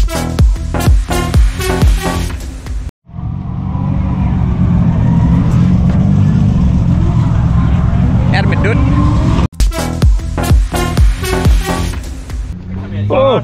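Nissan Skyline R31 with an RB30 turbo engine revving hard while drifting at Benarby Raceway, a loud sustained engine roar in the middle, bracketed by people talking before and after.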